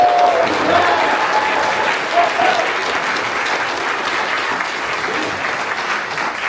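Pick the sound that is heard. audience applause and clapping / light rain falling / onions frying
audience applause and clapping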